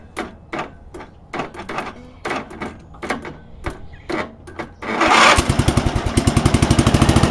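A cold motorcycle engine cranked without choke: a series of uneven chugging turnovers, then it catches and settles into a fast, steady, close idle putter.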